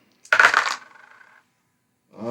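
Dice rolled during a solo tabletop session of the Monster Expedition board game: a short, close rattling clatter that tumbles and fades over about a second, followed by quiet and then a voice starting to speak.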